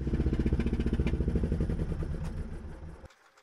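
Pony starting engine on a D8 dozer running with a rapid, rhythmic mid-pitched chugging that gradually slows and weakens, then cuts out abruptly and the engine dies, leaving near silence.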